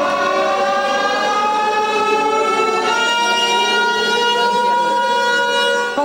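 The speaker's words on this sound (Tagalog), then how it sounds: "Pagtunog ng sirena, ito na ang naging hudyat na kunwari lumindol." A civil defense siren wails loudly and steadily at night in Pasig City, signalling a simulated earthquake in a rescue drill, its layered tones sliding slowly in pitch without a break.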